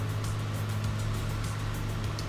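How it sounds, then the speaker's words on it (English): Aircraft engine in Microsoft Flight Simulator 2020 drones with a steady, loud, continuous hum and low tonal roar, unchanging throughout with no voices over it. "The engine sounds sweet."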